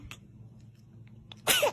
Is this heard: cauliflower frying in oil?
no